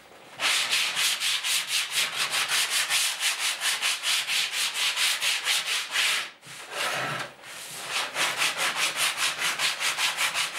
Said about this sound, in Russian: Для этого я использую обычный шлифовальный брусок.